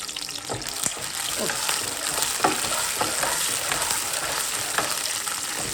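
Garlic ginger paste frying in a pan sizzles steadily, with scattered stirring scrapes and clacks rising above a constant hiss, close and fairly loud throughout.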